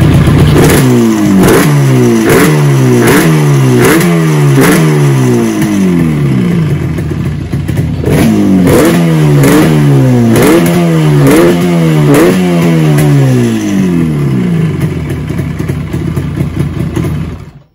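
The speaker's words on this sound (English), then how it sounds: "So now you notice the firing is really cool. And also it revs pretty nicely." A Yamaha RD two-stroke motorcycle engine is revved repeatedly close by, about ten sharp throttle blips in a steady rhythm, each rising and falling, with a short pause midway.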